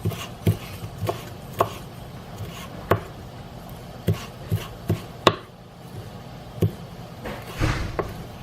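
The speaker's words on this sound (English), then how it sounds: "I love cilantro, hate chopping it." A knife taps sharply against a cutting board chopping fresh cilantro in an uneven series of chops, close and fairly loud, with brief pauses between bursts.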